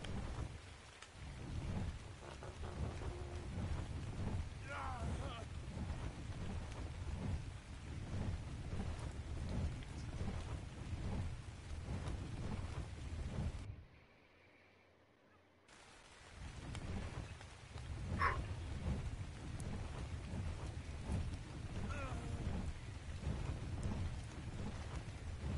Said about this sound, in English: Oh, it's fucking raining.